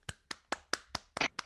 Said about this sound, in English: Please welcome, with great, wonderful applause